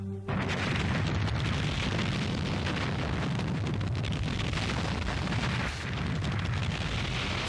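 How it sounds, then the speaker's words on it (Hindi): A huge boom from a planet being blown up, a sustained, loud, rumbling roar of explosion that fills the whole stretch with dense low thunder and no talk. "जरा सी बात के लिए आपने पूरा ग्रह उड़ा दिया।"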